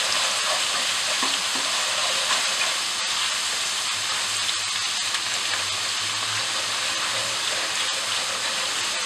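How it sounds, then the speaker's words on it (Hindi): Spices sizzle steadily in a hot pan for an aloo bhuna masala, a dense, continuous frying hiss that stays close and fairly loud throughout, with no voices. "इसको बस हल्का सा फ्राई करना है ताकि इसका जो कलर बस इसका चेंज हो जाए थोड़ा सा, और कच्चापन जो है वो हट जाए।"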